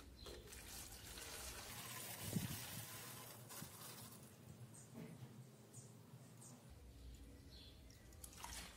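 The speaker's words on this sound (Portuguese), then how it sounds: "Vamos colocar os 700 ml de álcool." Alcohol, 700 ml, is poured into a container while making a homemade room fragrance, a faint, quiet trickle and splash of liquid with a few small handling clicks.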